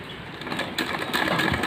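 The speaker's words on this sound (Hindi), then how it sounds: "ये हमारा फिटिंग 6 इंच है जिस पे हम अब सिलाई लगाते जाएंगे" A sewing machine stitches the six-inch fitting of a plazo pant in a short, continuous, moderately quiet run of rapid mechanical chatter.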